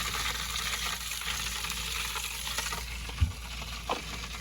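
Pork ribs fry on a compact non-stick electric griddle inside an RV, giving a steady, even sizzle throughout with a couple of brief louder pops near the end.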